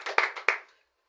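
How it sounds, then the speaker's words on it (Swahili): A church congregation clapping, a brief burst of a few quick claps that fades to silence within a second. "Tujipigie makofi."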